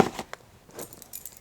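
A brief metallic jingle of keys, a few light clinks and rattles scattered over a second or so, close by.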